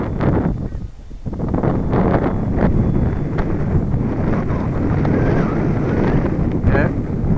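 Gusty wind buffets the microphone on a windy morning out sailing, a loud continuous rush that rises and falls with a brief lull near the start, with faint talk in places.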